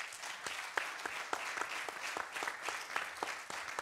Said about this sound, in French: je vous propose d'applaudir nos invités.